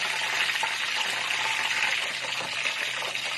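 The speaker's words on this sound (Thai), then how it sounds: "หมูก้อนทอดกระเทียมพริกไทย" Pork balls fry with garlic and pepper in hot oil, a loud, continuous, crackling sizzle that holds steady throughout with no talking.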